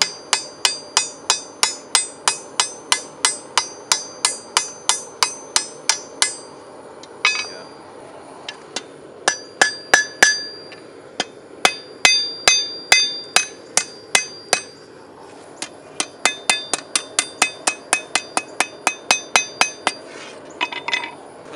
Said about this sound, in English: Use the ball peen hammer, some fine tuning.